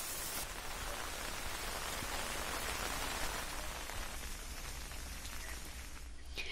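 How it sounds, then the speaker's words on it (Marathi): Light drizzling rain falling around Sinhagad Road in Pune, a steady soft hiss of drops on surfaces, continuous and fairly faint with no voices. "सिंहगड रोड, पानमळा या परिसरात रिमझिम पाऊस सुरू आहे।"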